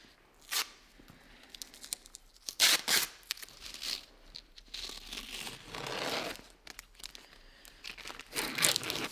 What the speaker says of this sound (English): I'm gonna peel all the stuff off here now.